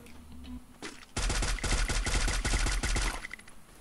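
Rapid automatic gunfire from the mobile battle royale game Free Fire, a dense continuous burst of close shots lasting about two seconds, alone without talk.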